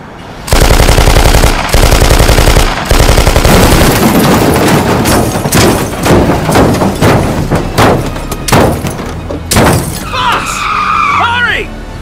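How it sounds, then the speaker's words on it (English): Staged audio-drama gunfire shoots out a van's tires. It starts as loud, rapid automatic bursts, then turns into scattered single shots with screeching tires and crashing debris, and voices speak over the chaos. "Hold her steady. I'm gonna shoot out the tires."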